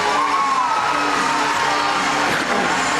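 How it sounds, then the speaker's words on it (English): Hockey arena crowd roaring after a Rapids goal in a playoff game, a loud continuous wall of cheering and whooping with a few shrill shouts rising above it, no commentary over it. "The crowd is absolutely loving it. Fans are going crazy"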